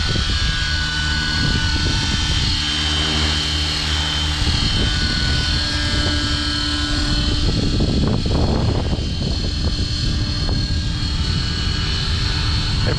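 Align T-Rex 550X RC helicopter in flight, its rotor blades producing a steady, loud whirring drone with engine whine throughout, outdoors in wind, with no talking.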